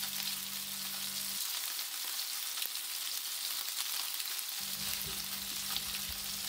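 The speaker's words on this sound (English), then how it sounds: "Then flip them over to continue searing the other side." Chicken pieces sear in a hot pan, spitting and sizzling in a steady crackle throughout at moderate volume, with a low background hum that drops out partway through.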